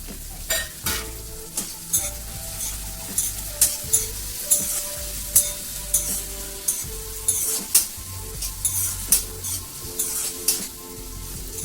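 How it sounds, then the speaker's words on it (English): Tomatoes sizzle in hot oil in a pan for Indian dal fry, with a spoon scraping and stirring in regular strokes over the continuous close frying hiss. "We have to fry these tomatoes till it gets softened."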